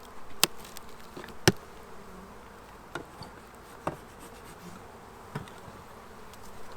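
Honeybees drone steadily inside an opened beehive during a large hive unwrapping, a continuous close buzzing with occasional sharp knocks and clicks of handling, no voices.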